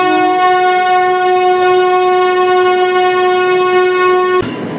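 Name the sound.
Veraval-Bhavnagar and Porbandar-Rajkot trains passing close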